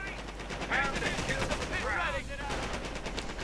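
Rifle and machine-gun fire crackles in a World War II strategy game as riflemen engage Volksgrenadiers, rapid overlapping bursts under steady background noise and a faint voice.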